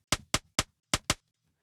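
Five short, dense noise impulses from a looped sidechain trigger, loud and close, firing in a quick uneven rhythm with brief gaps and a longer pause before the last two.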